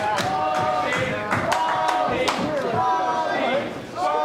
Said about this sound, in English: Crowd chanting Baldy at Adam Pearce.